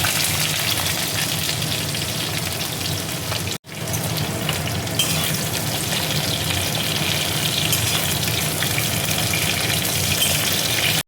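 Ghee karola, bitter gourd, fries in hot mustard oil with a loud, dense, continuous sizzle that runs almost unbroken and cuts out briefly once.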